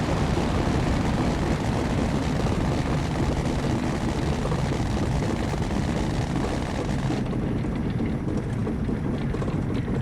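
An Airco DH.2 biplane rolls along the ground after a heavy landing in the flight game Rise of Flight, giving a loud, steady engine and rumbling wash that dulls slightly near the end, with no talking.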